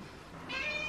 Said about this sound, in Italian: C'è il vostro gattino Rulu bianco poco arancione